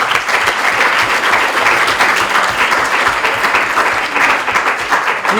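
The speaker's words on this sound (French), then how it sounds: "On applaudit ça" A crowd at a school ceremony in Man applauds steadily and loudly for about five seconds, with dense, even clapping that carries no break and no voices over it.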